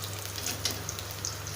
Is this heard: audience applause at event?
no